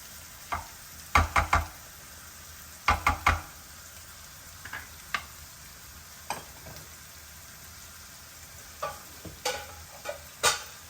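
Carrots cook in a little oil in a pan under a lid, a soft background sizzle broken by scattered clinks and knocks of a utensil, close and fairly quiet.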